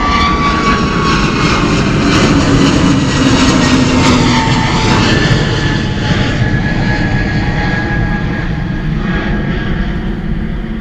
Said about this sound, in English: Wow, super early rotation for that 320neo.